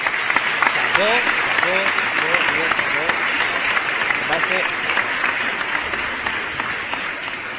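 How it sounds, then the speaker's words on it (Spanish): Steady applause rolls on continuously for several seconds, with sharp individual claps standing out and occasional cheering voices rising briefly above the clapping. "Voy a despedirme con un aplauso"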